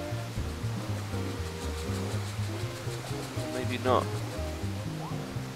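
A waterfall in the video game Super Mario 3D World gives a steady rushing hiss beneath the game music, while someone speaks briefly over it.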